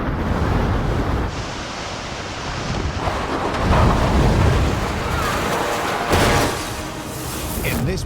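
Strong wind roars as a loud, continuous broadband rush that buffets the microphone and swells and eases in gusts.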